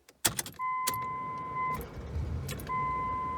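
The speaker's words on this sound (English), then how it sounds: "Starting up the car, you still have your old school key." A 2001 Toyota Sienna minivan started with a key: sharp clicks and jingles, then a steady hum with a held chime tone, a brief break, and the chime returning over a low running rumble.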